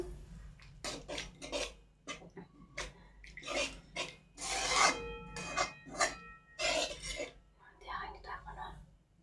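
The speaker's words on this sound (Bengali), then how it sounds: "ভালো করে নেড়ে চেড়ে নিচ্ছি" Boiled masoor dal is stirred into fried spices in a pan for egg dal, with a series of rhythmic scraping and rasping strokes of a spoon against the pan, close and fairly loud, a soft voice speaking quietly underneath.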